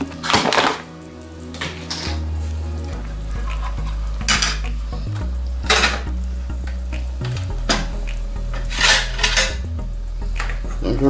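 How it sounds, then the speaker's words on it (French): Lardons dropped into a pot of cooked potatoes, with repeated utensil clatters and scrapes against the pot over a low steady hum, close and fairly loud, with no talking. "je vais venir lâcher les lardons dedans pour qu'ils soient cuits"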